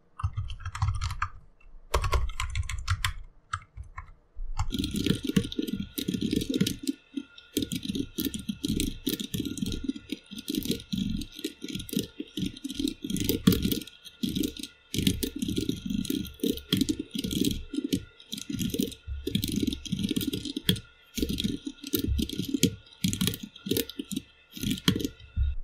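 Continuous fast typing on a computer keyboard while code is entered, a dense run of clattering key clicks close up and alone after a brief quiet start.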